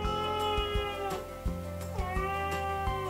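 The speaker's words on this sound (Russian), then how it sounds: "Вот этот кот все мешает да мешает." A domestic cat meows loudly and insistently indoors, one drawn-out harmonic cry after another with only brief gaps, close to the microphone and with no talk over it.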